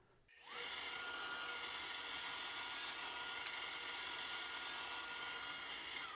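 A power saw spins up and then cuts strips of half-inch Baltic birch plywood, a sustained high whine that stays loud and steady after a short start-up, with no one speaking.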